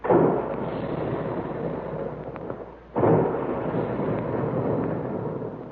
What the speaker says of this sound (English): And there go the big guns, reminding us all that puffed wheat and puffed rice actually are shot from guns right in the Quaker plant.